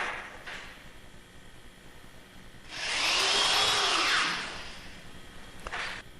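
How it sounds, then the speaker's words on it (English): A power drill bores a 1/8 inch hole through wooden boat planking, one steady whine lasting about two seconds after a quiet room, with brief clicks before and after. "Now what I'm doing is drilling a hole vertical through the planking into the adjacent one, a 1/8 hole."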